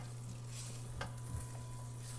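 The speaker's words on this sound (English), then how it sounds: "They're like, hey, we're sizzling." Bacon and onion sizzle in a pan with a steady, close frying crackle and a brief stir or scrape partway through.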